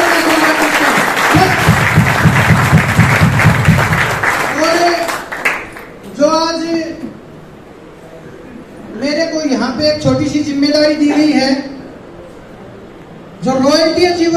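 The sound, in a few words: seminar audience applauding in honour of Gurudev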